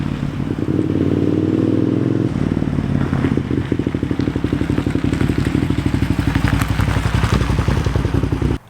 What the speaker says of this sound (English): my bike actually runs again because the clutch works and we can get power to the rear wheel